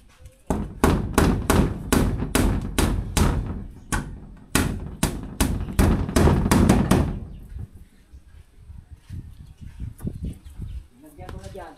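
Hammer strikes on a roof during roofing work, a fast series of loud, sharp, close blows in two bursts over about seven seconds, followed by quieter knocks and background noise.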